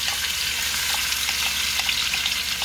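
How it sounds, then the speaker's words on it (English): Onion cooking in butter and grease in a pot for potato soup, a loud, dense hissing sizzle that holds steady throughout, close up and without speech. "now we're going to put in about 3 tablespoons of butter. And we're going to also put in that onion."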